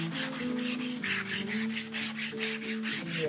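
Hand sanding over wood with 320 grit sandpaper to smooth roughness left by 80 grit, a steady rhythmic back-and-forth rubbing in close, even strokes with no talk.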